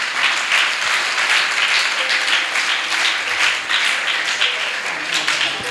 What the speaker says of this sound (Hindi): खुद के लिए आप एक बार तालियां बजाएं